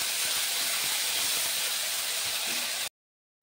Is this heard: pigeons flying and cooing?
no